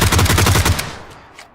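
A rapid burst of automatic fire from a G36 assault rifle in PUBG, roughly ten close, loud shots in quick succession, then a short decaying tail with faint echoes.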